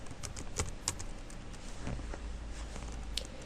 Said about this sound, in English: in a web browser type its IP address to log in